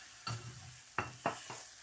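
Blended masala fries in oil for a chicken and turnip curry, a soft, quiet sizzle with several scraping stirs at irregular intervals.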